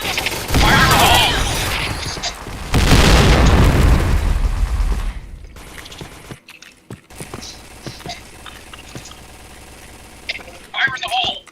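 Loud booming grenade blasts in a video game, two heavy explosions in the first few seconds with rumbling decay, followed by quieter game sounds, clicks and mechanisms, with voices calling out over the action.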